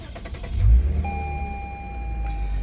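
A 2020 Lexus IS300's 3.5-liter V6 engine cranks and catches, then settles into a steady idle hum as a tone beeps in the cabin.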